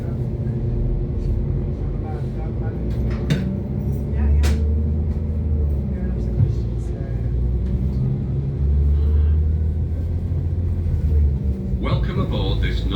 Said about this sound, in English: The acceleration on the 195s is pretty rapid.